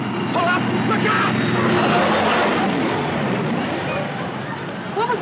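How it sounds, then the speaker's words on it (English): Big airplane roaring past as a radio comedy sound effect, a loud steady engine drone that fills the whole stretch and tapers slightly at the end. "It sounded like a big plane."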